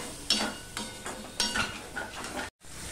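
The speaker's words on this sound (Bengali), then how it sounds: "এবার মশলাটা আমি কষিয়ে নেব ভালো করে।" Spice paste being sautéed and stirred in a pan while cooking drumstick flowers, with a soft sizzle and repeated scraping strokes of a spoon, close and steady without talk.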